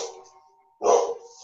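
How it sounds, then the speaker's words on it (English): Dogs barking indoors in a home, one sharp close bark burst after a fainter, higher bark, short and loud, with no talking. "Sorry, my dogs."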